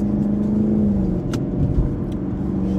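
Steady engine rumble from a 2019 Chevy Camaro 2SS, a loud, continuous low drone held close with no talking.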